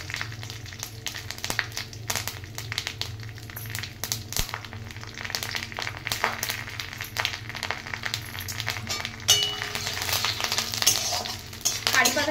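Matar dal and curry leaves frying in hot oil for a quinoa pulao, a steady close sizzle with a spoon repeatedly stirring and scraping the pan, getting busier toward the end.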